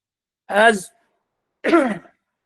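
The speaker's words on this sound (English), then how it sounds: "Sorry, I have a cough." Two short, harsh coughs about a second apart, close and loud, with silence between them.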